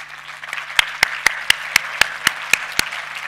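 A single person claps steadily, about nine evenly spaced sharp claps in a row, close and moderately loud.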